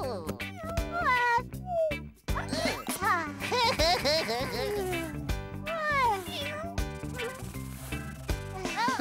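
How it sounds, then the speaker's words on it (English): A cartoon cat meows several times in a children's animated show, with high, bending mews heard over bouncy background music and jingles. "Oh, it's only the little black cat."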